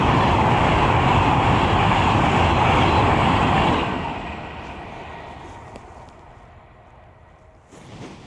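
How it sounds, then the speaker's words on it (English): A loud, broad rumble of a train rolling past nearby, holding steady for several seconds and then fading away into quieter background noise, heard beside a 2024 Triumph Bonneville T120 motorcycle. "There we go, here's a train."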